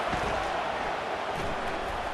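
A football stadium crowd at Oklahoma roars as a steady, distant wash of noise, with a commentator's voice talking over it.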